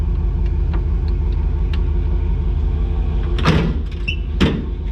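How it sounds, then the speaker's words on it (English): Deck lid of a 2004 Chevy SSR with a 5.3L swap, not closing fully, slammed twice with a thud and metallic rattle over a loud idling engine rumble. "The deck lid does not want to shut all the way."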